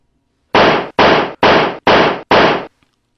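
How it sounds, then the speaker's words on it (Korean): Five sharp gunshots crack out in an evenly spaced burst, loud and near, echoing in a village where uniformed men threaten residents, followed by silence. "순간 마을에서 여러 발의 총성이 울려 퍼지는데"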